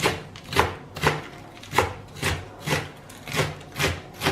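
A kitchen knife finely shredding lettuce on a wooden board, steady rhythmic strokes about twice a second, each a crisp scraping chop, close and clear with no talking.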